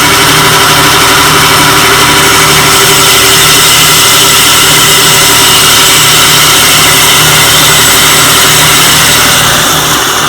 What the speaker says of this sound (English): you can hear the grit working its way through the reel right now